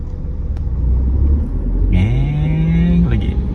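A manual car being driven on a public road during a first driving lesson, its engine rumbling steadily and then rising in pitch as it accelerates in a low gear, with a voice speaking over the engine.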